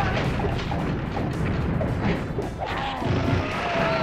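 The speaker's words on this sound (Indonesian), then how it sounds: "Ledakan." A wolf's special attack in the video game Rampage Through Time sets off dense, rumbling explosions and crashes that stay loud for the full four seconds with no break.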